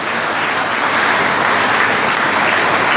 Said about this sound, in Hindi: इसके लिए जोरदार तालियां बजा करेगा।